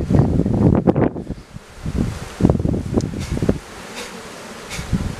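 Agitated honey bees buzzing an alarm around a hive in a wooded setting, a dense, wavering swarm hum rising and falling in bursts, with gusts of wind and rustling leaves mixed in.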